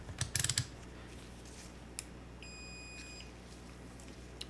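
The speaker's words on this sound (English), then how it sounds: "So this beep test will show us if we have any shorts on the VCC line." A multimeter gives a single clear continuity beep while checking the VCC line of a damaged memory card for shorts. It follows a few brief clicks of the probes being set up.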